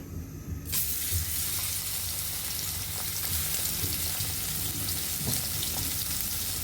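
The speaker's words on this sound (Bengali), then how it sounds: "এখন আমরা তেলে ভেজে নিব আমরা এখানে কড়াইতে তেল দিয়ে দিয়েছি" Prawns fry in hot oil in a wok, giving a loud, steady sizzle that starts abruptly and then crackles continuously on its own for several seconds.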